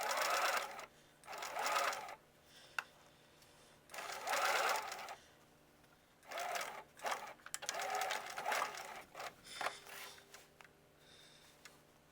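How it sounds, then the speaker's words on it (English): A sewing machine stitches a skirt's elastic casing closed in several short bursts of whirring stitching, separated by quiet pauses and faint handling clicks, heard close and fairly soft. "then I'm going to stitch the casing closed"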